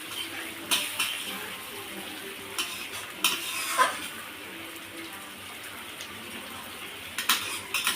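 A utensil stirs puti fish curry in a pan with light scraping and clinking, over a soft steady simmer and sizzle.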